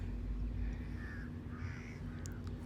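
Faint crow-like caws carry over a low, steady background hum at the Adyar estuary in the early morning. A few scattered calls sound at a distance.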